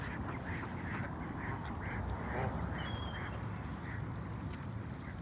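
Ducks quack repeatedly in a steady rhythmic series among mixed waterfowl including geese, crows and gulls, layered over a constant outdoor rumble of wind or water.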